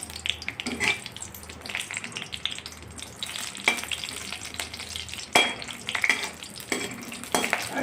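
Green chillies frying in oil left over from cabbage pakoda: a steady crackling sizzle close by, with occasional scrapes and clinks of a utensil against the pan, and no voices.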